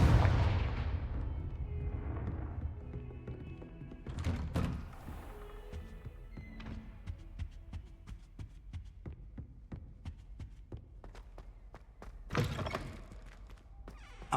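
A Confringo fire spell blast in the Hogwarts Legacy video game opens with a loud, booming burst that fades into a low rumble. Lighter thumps and clicks follow, and a second sharp burst lands near the end.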